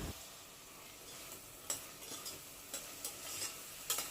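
Roughly chopped large tomato with green chillies and coriander is stirred in a pan for a chicken capsicum gravy; soft, faint sizzling sits under scattered clinks and scrapes of a spoon.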